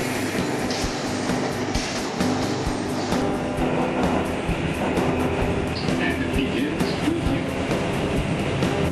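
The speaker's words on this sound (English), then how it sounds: "We've just changed from the local train to the express train." A New York subway express train rides from 96th Street toward Grand Central at 42nd Street, with a loud continuous rumble and rattle of the car and rhythmic wheel clatter throughout.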